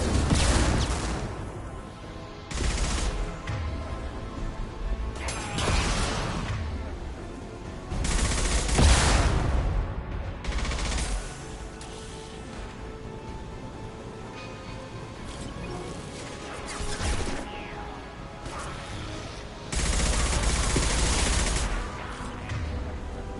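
Mass Effect 2 gunfire comes in repeated loud bursts of rapid shots, separated by short pauses, running throughout.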